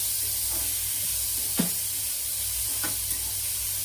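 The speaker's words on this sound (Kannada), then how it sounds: "ಚೆನ್ನಾಗಿ ಫ್ರೈ ಮಾಡ್ಕೋಬೇಕು." Vegetables fry for fried rice in a hot pan, giving a steady, close sizzle broken by a couple of quick stirring scrapes.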